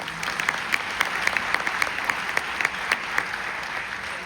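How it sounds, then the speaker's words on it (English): A film festival audience in a cinema applauds Joe for fixing the VistaVision reel, steady clapping with distinct sharp claps standing out near the front. "give a round of applause for Joe"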